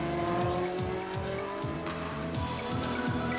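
A Tamiya Pro 10 radio-controlled Sauber Mercedes C11 model race car runs on a track, its electric motor whining in steady rising sweeps as it accelerates and brakes repeatedly, loud and close with faint tire noise.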